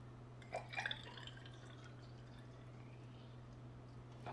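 Essentia bottled water trickles into a test tube in a quiet room, a few soft splashing drips near the start over a steady low electrical hum.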